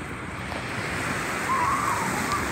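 Sea waves wash ashore at dawn on a beach facing Son Tra mountain, a broad steady surf rush with light wind noise and a swell that builds toward the end.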